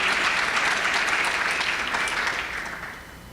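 A large audience at a talk about public schools breaks into loud, dense applause that holds steady for several seconds before tapering off toward the end.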